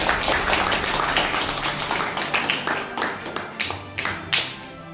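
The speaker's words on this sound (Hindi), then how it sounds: "ये भी इसके लिए ताली बजाएंगे सब लोग" Audience clapping at a gathering celebrating the registration of the Prem Murti Radha Krishna Seva Trust, formerly a free bus service committee; steady, dense applause of many hands carrying on for several seconds, with a few sharper claps near the end.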